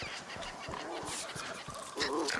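Chickens wander in the game Runescape: Dragonwilds, giving several short clucking calls one after another over a busy background ambience.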